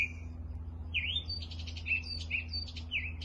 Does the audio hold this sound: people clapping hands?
no